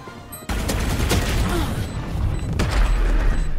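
Heavy bursts of gunfire and booming blasts kick in abruptly and continue densely in a loud, chaotic Valorant firefight.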